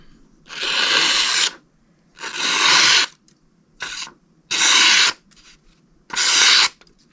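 Cold Steel Mayhem knife drawn across the coarse side of a Sharpal 162N sharpener, five close, rasping strokes of about a second each, separated by short pauses.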